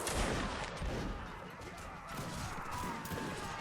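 A Napoleonic reenactment regiment of the 33rd Regiment of Foot fires a musket volley at an anniversary battle event, a dense, sustained crackling roar with no distinct single shots, loud and close throughout.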